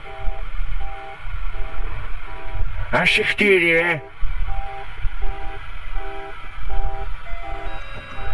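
A loud video game car horn blasts for about a second, harmonic and brassy, over steady background game noise from a Fortnite horror map, followed by someone briefly speaking.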